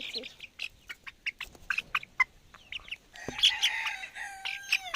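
Chickens clucking and a rooster calling in short bursts, with one longer crowing call near the end, close by.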